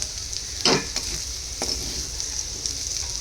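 Fried potato slices are stirred together with finely chopped coriander after the gas is switched off. A faint low sizzle runs underneath, with one clear scrape of a spatula near the start and a few softer taps after it, all close up.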